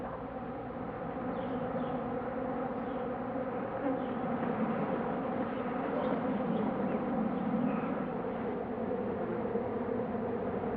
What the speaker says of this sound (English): All manner of insects come to feed there